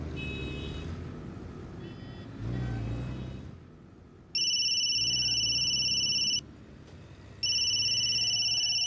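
A telephone rings in a home in two loud electronic bursts separated by a short pause, preceded by quieter low rumbling room noise.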